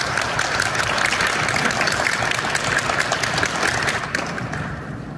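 Applause from a welcoming crowd greeting the Oita Trinita football team as they arrive for training camp in Kirishima City, a steady broad wash of clapping that holds for several seconds before easing off toward the end.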